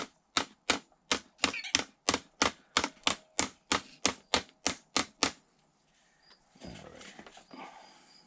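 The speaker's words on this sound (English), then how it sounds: "And I give it a couple of little whacks with the hammer." A hammer gives quick whacks to rear parts of an Arrma Mojave 6S BLX RC car, a rapid run of about fifteen crisp, close knocks, then quieter handling and rustling.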